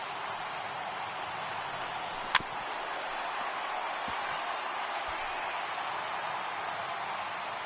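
Steady roar of a large baseball stadium crowd in the video game MLB The Show 18, fans on their feet in a Rays at Yankees game, a broad continuous wash with one sharp crack midway, no talking.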